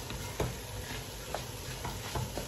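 Okra fries in oil in a pot with a steady crackling sizzle, broken by a few soft stirring clinks and taps, close and moderately loud with no talk.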